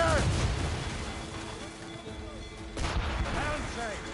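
Ship cannon fire in the naval combat of Assassin's Creed Rogue, two heavy booming volleys with rumbling tails, under shouted crew voices and ambient game sound.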